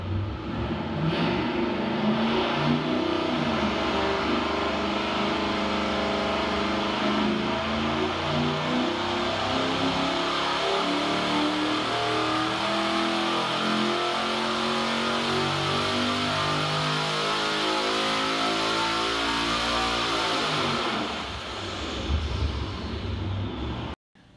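A stock-block 4.8 liter LS V8 with remote-mounted twin turbos, Gen 4 rods and JE pistons, runs under load on a test, its loud steady engine tone sweeping up in pitch before cutting off abruptly at the end.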